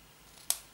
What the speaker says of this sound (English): I'm going to cut off the edges of the washi tape